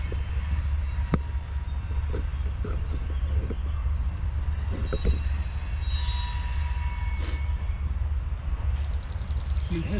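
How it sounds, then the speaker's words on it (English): A long freight train hauled by three engines rolls steadily past at a river crossing between Moline and Davenport, a continuous low rumble of wagons with faint wheel squeals and clanks over the top. "you can see how long that train is"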